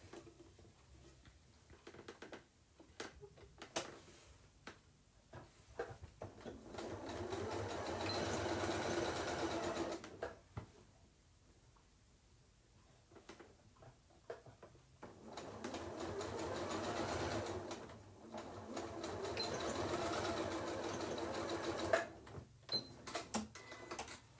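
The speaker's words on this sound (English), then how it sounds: "back to our machine. And we just want to sew across this piece." A sewing machine stitches across a pieced, candy-corn-colored fabric placemat in two long, steady bursts of motor whir with a quiet pause between them, close and alone with no talk.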